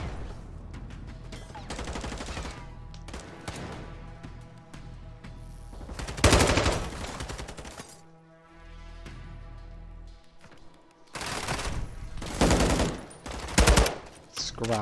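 Automatic gunfire rattles in dense bursts during a Call of Duty League match between Atlanta Faze and Seattle Surge, with loud volleys, brief lulls and renewed heavy exchanges throughout.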